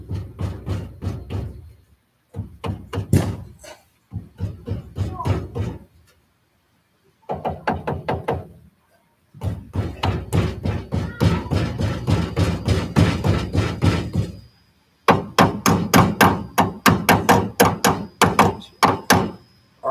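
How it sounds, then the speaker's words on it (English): Rapid bursts of hammer blows in quick rhythmic runs on a 1965 Plymouth Fury, separated by short pauses, loud and close. "Hammer time."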